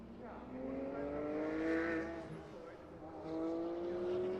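Prototype race car V8 engines fire up in the pit lane at the Nürburgring during qualifying, a sustained droning engine note that climbs steadily in pitch, fairly close and loud, swelling and easing over a few seconds.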